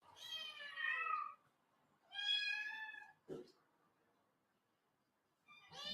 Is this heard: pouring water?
no